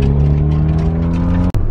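A car engine accelerates during a pull, a loud, close, droning roar with a steady pitch that cuts off abruptly near the end, then briefly resumes.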